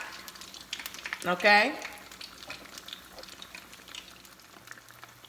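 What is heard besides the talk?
alcapurrias frying in oil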